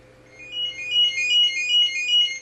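A phone rings with a repeating electronic ringtone melody, a steady series of bright chirping tones that swell and continue for a couple of seconds over a quiet room hum.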